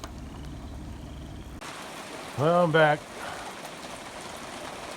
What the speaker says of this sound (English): Not much I can do except wait out the rain.